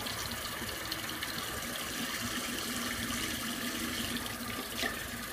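Water runs steadily from a sink tap while someone rinses off after a shave, a constant gushing splash at moderate volume with no speech.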